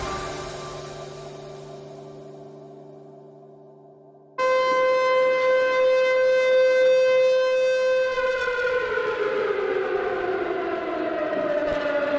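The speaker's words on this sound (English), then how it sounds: "the haunting sound of the sirens here at Goodison Park to indicate that the players are in the tunnel" A stadium siren at Goodison Park before an FA Youth Cup match wails loudly and steadily, holding a sustained tone before its pitch slowly slides downward near the end.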